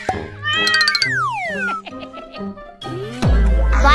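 A pet cat meows repeatedly, close and loud, with rising and falling drawn-out calls in quick succession, then a brief louder mixed burst at the end.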